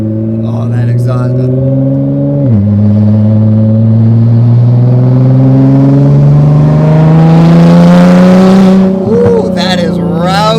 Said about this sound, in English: Oh, that exhaust.